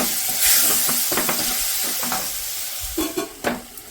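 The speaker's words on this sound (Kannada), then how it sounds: "ನೋಡಿ ಕಡಲೆ ಹಿಟ್ಟು ಹಾಕಿ ಒಂದು ಅರ್ಧ ನಿಮಿಷ ಈ ಥರ ಆಡಿಸ್ಕೊಂಡಿದ್ದೀನಿ." Potato palya with gram flour being stirred in a pan, a close, steady sizzle under scraping spoon strokes, with a few sharper clinks against the pan near the end.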